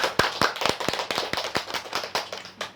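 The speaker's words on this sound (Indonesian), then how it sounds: "boleh diberikan tepuk tangan untuk teman kita" A small seminar audience claps for a presenter, sparse and distinct handclaps in an uneven rhythm, fairly close and without voices.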